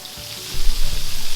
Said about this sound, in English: just pan fry it